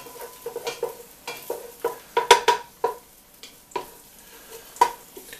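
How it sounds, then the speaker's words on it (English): Chopped onion and garlic sautéing in a pan, with soft sizzling broken by irregular scraping and clinking as a utensil stirs the pan close by, with no voices. "And then add your onion and your garlic. Saute them."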